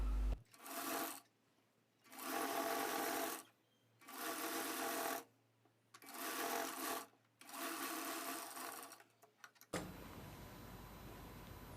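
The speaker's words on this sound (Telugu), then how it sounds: "ఇప్పుడు ఈ లైన్ని ఇలా ఫోల్డ్ చేసి ఒక స్టిచ్ వేసేసుకోండి." A sewing machine stitches a folded fabric edge for a cut-work sleeve design in five steady bursts of about a second each, separated by short pauses, loud and close with no talking.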